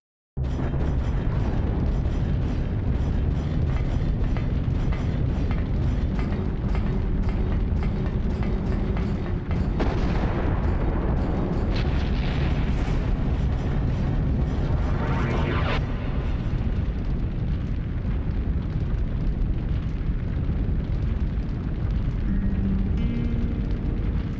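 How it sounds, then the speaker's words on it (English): A loud, sustained explosive roar surrounds the player in the Silent Hill video game, with rumbling booms and rising whooshes swelling at several points over a continuous dense rumble, and no talk. "stopping the explosion around us."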